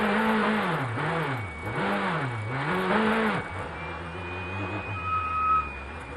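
A Corvette Z06 GT3.R race car at Daytona's 24-hour race, its engine rising and falling in a few revving surges up close before settling into a steadier running drone with a faint whine.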